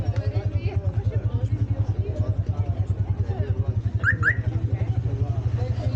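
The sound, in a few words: tuk-tuk driving through narrow streets of Marrakech medina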